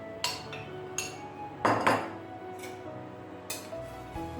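Spoon clinking against a bowl as flour is worked into cake batter for a fruit sponge cake, with several sharp scraping taps spaced irregularly, one louder cluster in the middle, close and moderately quiet.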